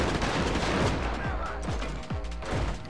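Rapid bursts of gunfire from the Saints Row video game, a dense rattle of repeated shots close up and fairly loud, mixed with game action and without any clear talking.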